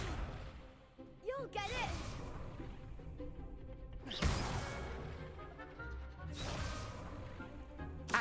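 Spell effects in the Hogwarts Legacy video game: repeated whooshing magical bursts and crashing impacts at intervals, with a voice talking over the game sounds.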